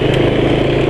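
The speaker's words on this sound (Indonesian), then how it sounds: "sekarang suara mesinnya halus, jadi makin halus gitu" A Vespa scooter engine runs smoothly after an oil change with GGI oil, giving a short, steady, even hum at close range with no pauses.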